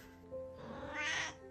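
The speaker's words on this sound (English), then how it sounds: "I love this scraggly meow." A street cat gives a single drawn-out, raspy, creaky meow, close and fairly soft, rising in strain toward its end with no other sounds around it.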